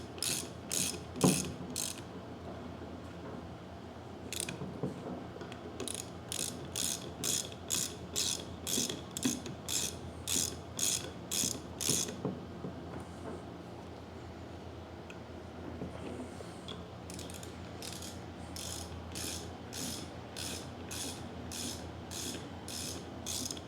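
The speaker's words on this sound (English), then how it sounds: "Let's use our 10mm Allen and snug these plugs down." An Allen key ratchets in bursts while snugging down the pump plugs on a DeWalt 3600 PSI pressure washer, close and clear, with quick rhythmic clicking runs separated by short pauses.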